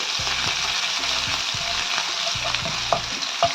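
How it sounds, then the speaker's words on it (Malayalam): Crushed ginger frying in a pan for a Kerala fish molly, with a steady broadband sizzle and repeated low scraping stirs of a spatula throughout, close and fairly loud, no voices. "ചതച്ച് വെച്ച് ഇഞ്ചി അതൊരു 10 സെക്കൻഡ് നമുക്ക് ഇളക്കി കൊടുക്കാം."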